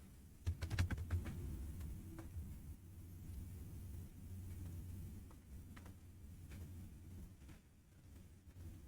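Keys clatter on a computer keyboard while a number is entered in Autodesk Inventor software, a quick burst of close clicks followed by sparse, quiet taps over a faint room rumble.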